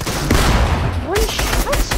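Rapid bursts of gunfire crackle in a video game match, a dense volley of close, loud shots layered over game noise.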